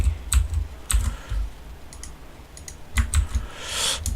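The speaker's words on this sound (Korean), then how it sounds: "키보드가 좀 이상하게 먹혀서" Close, clattering keystrokes on a computer keyboard in irregular bursts, with quick shortcut key presses for copy and paste while working in PLC timing-chart software. No one speaks.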